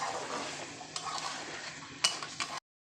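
Egg and potato curry sautés in a pan with a splash of water, a moderate sizzle under stirring scrapes and a few sharp utensil knocks before it cuts to silence.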